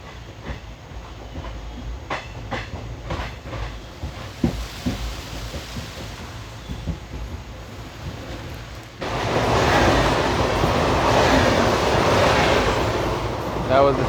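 The Chennai-Coimbatore Kovai Express, an intercity train, rushes past on the next track, heard from aboard the diverted 16512 Kannur Bengaluru Express: steady rumbling that swells abruptly into a loud, sustained broadband roar partway through.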